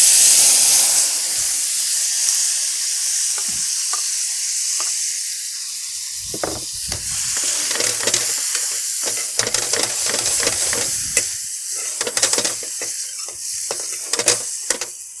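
Tomatoes dropped into hot oil with curry leaves for Kathiyawadi sev tamatar shaak sizzle and hiss steadily and close, with scraping stir strokes and clatter growing busier in the second half; no talking.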